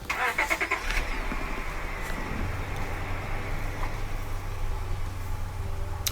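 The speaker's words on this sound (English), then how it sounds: "So we're going to start it up." A Honda Accord with a freshly installed EGR valve, which had been misfiring, cranks and catches, then settles into a steady, close engine idle running alone without speech.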